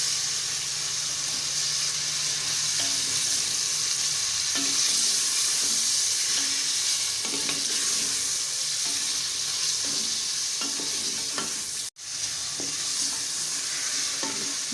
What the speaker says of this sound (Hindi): दो से 3 मिनट हमने गोश्त को अच्छे से भून लिया है।